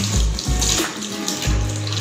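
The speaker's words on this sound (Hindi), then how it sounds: "ये देख सकते हो पानी अभी बाहर आ रहा है" Water gushes steadily from a pump hose draining a home fish tank, a continuous splashing rush with two brief surges, close and fairly loud with no talking.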